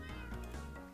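Cat meows once in the Minecraft video game, a drawn-out, clear, close-up in-game sound effect heard alone.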